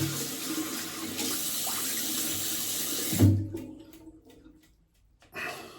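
Water runs steadily from a tap while a shaving brush is rinsed under it. The flow cuts off about halfway through, and there are a few faint handling sounds afterward.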